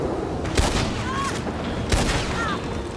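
Gunfire in the online Western game Red Dead Online, sharp shots popping in two bursts over a dense, noisy game soundscape with a steady wash of background sound.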